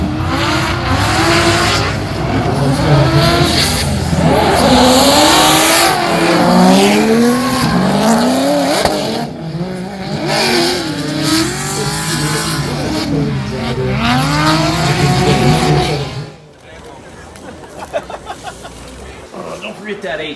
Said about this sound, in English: Thomas Palmerino with the purple Miata chasing him down.